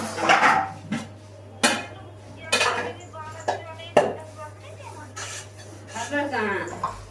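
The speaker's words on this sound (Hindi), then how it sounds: "अभी तो बर्तन मांज रही है" Pots and dishes, some greasy with ghee, clatter and scrape as they are scrubbed by hand in a home kitchen, with irregular metallic knocks and someone talking over the washing.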